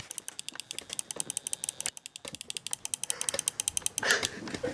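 A computer mouse clicks rapidly over and over in quick, fairly even bursts, close and crisp with no talk.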